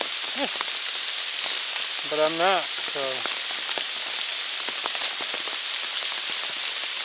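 Steady rain patters on a hiker's umbrella on a cold, wet day in the 100 Mile Wilderness on the Appalachian Trail, a dense hiss with scattered drops, as someone speaks briefly over it.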